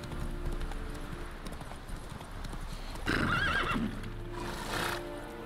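Roach the horse in The Witcher 3 video game: hoof clip-clops followed by a clear whinny midway and a second brief neigh, fairly quiet overall.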